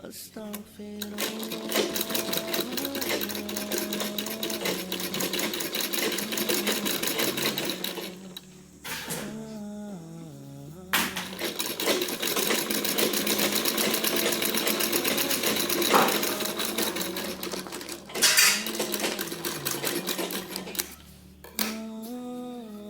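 A sewing machine runs top stitches on fabric tucks in fast bursts of rapid mechanical clatter, stopping and restarting several times, with brief pauses and a voice heard faintly between runs.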